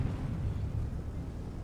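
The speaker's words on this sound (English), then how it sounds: "we get shot in the side by an L2-432 there" A tank in a video game taking a hit from an enemy shot, heard as a continuous low rumbling boom with heavy bass, steady and fairly loud.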